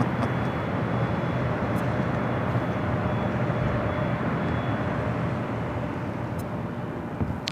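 An arriving airliner on a flight in from Newark roars steadily and loud throughout, a broad sustained jet rumble with a faint whine, no voices over it.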